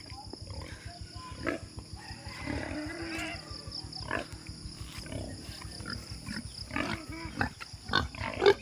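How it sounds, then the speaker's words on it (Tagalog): A crowd of pigs grunts and snorts close by in a pen, with irregular overlapping grunts and squeals over a low rumbling background, steady through the stretch and rising near the end. "Pakadaghanang baboy dito guys."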